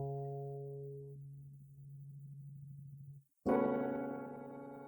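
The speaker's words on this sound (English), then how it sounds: "I have this grain delay, which is making the sort of octave up effect" A sustained piano tone with a grain delay adding an octave-up ping-pong layer fades away. After a brief gap, a bright new piano attack rings out and slowly decays. It plays alone and fairly quietly.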